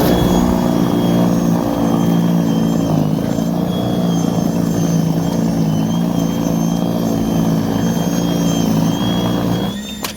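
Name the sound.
Greenworks Pro 60v 22-inch battery snowblower clearing snow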